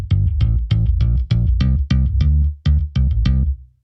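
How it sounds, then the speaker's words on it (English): A Chapman-style funky bass pattern in a pop production, about a dozen punchy, evenly spaced plucked notes with a distinct ending figure in the fourth bar, played loud and alone. "we have our Chapman bass with the following ending in the 4th bar"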